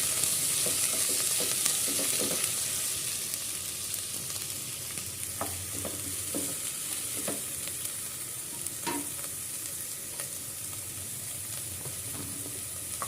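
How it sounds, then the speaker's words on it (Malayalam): Sliced onions frying in a pan for chicken curry, a steady close sizzle with intermittent scraping and clinking as a spoon stirs them. "നമ്മളിവിടെ എടുത്ത് വെച്ചിരിക്കുന്ന ഒന്നര സവാളയാണ് നമ്മളിവിടെ ചേർത്ത് കൊടുക്കാം എന്നിട്ടൊന്ന് നല്ലപോലെ ഒന്ന് ഇളക്കി കൊടുക്കാം"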